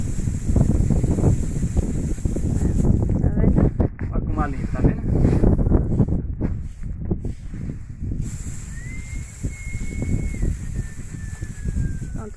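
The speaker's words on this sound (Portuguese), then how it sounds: "Vá, agora começou o vento de novo." Steady wind roars and buffets the microphone outdoors while beans are winnowed by hand, with someone talking over it.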